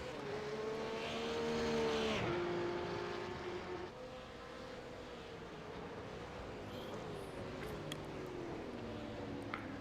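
Race cars, including a RUF supercar, battle on track at the Spa circuit, engine notes rising and falling as they pass at a distance, steady and moderately loud throughout without talk.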